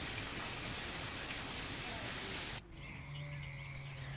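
Heavy rain in Vadodara, Gujarat, makes a dense, steady hiss, then abruptly gives way after a couple of seconds to quieter wet ambience with a low hum.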